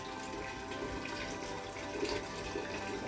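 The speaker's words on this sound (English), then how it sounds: "I need to go in with some boiling water" Boiling water being poured into a pot for a seafood boil, a steady, faint rushing splash that continues evenly for a few seconds without pause.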